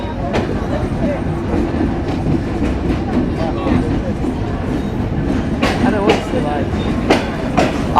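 A passenger train pulls into Jessore railway junction in Bangladesh: a loud, steady rumble of wheels on rails with clickety-clack beats and some metallic squeals, heard close from on board.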